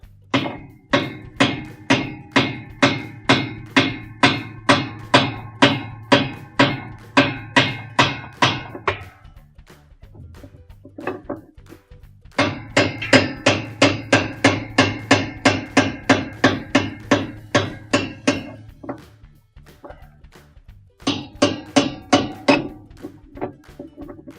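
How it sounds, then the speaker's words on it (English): Dozens of sharp metallic hammer taps loosening a nut counterclockwise on a washing machine tub support, in quick, steady runs, three bursts separated by short pauses, close and loud. "So we're going to take the hammer, just tap it a couple of times to loosen it."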